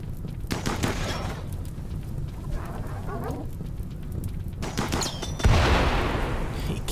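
Gunfire crackles in RimWorld combat as shots hit a mech. It comes as close, rapid bursts of sharp reports against a rain-like background hiss, with one heavier impact near the end.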